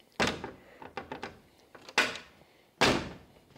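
The door of a 34 Ford Coupe swings and thumps shut three times at close range, each solid metallic slam ringing briefly, with smaller clicks and taps of handling the door in between.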